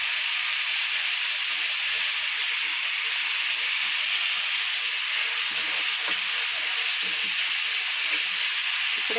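Mustard seeds and turmeric sizzle in hot oil for a tomato pachadi, giving a steady, close hiss and crackle with small pops scattered throughout and no talking.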